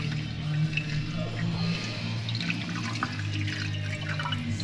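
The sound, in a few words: water leaking inside flood-damaged Jaguar XK car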